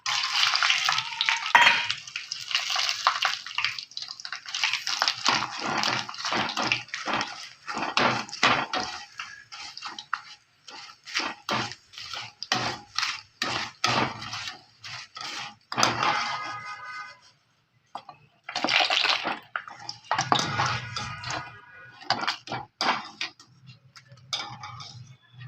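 Potato chips frying in hot oil in a home Marathi kitchen, heard as a rapid crackling sizzle broken by bursts and short pauses, with occasional clinks of a utensil against the pan.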